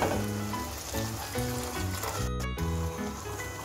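Chicken fries in a pan with spices as chicken stock is poured in, a steady, close sizzle that stays loud throughout, broken by a brief quiet moment partway through.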